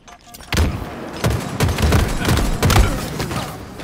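Gunfire and thumping explosions in a Halo Infinite ranked match crackle in a dense, overlapping volley, loud and sustained with sharp individual shots standing out.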